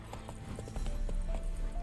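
Horse hooves clip-clopping in The Witcher 3 on PS5, a steady run of close hoofbeats with a brief whinny-like tone, no talk.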